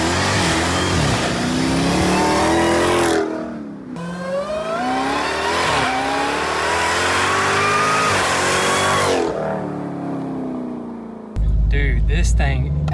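A Jeep Trackhawk accelerates hard outdoors in a loud, sustained engine roar whose pitch rises through the gears, with brief dips at shifts and a burst near the end; a voice is faintly present.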